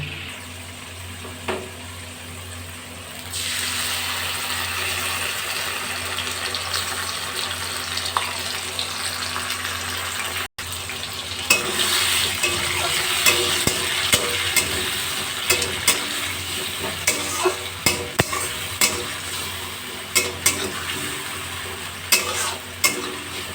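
Tomato, green chili and ginger paste hits a hot pan and sizzles, with a sharp wet hiss that rises after a few seconds and steady stirring clatters and scrapes throughout, close and loud with no talking.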